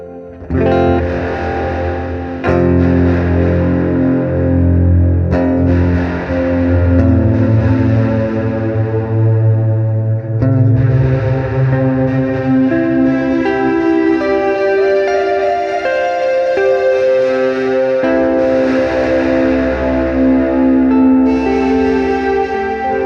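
A delay pedal with grit distortion added to the repeats, playing a sustained, chorused electric guitar passage loud and alone, with gritty, echoing trails ringing between chords.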